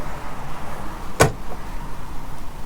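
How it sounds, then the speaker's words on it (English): Rear barn door on a 2003 Ford Excursion Eddie Bauer, a single sharp close-up latch thud against a quiet outdoor background, followed by a faint softer knock. "You can see both of these barn doors open and close."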